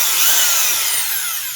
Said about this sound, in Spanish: Un taladro, seleccionamos el dado a la medida, preparamos la herramienta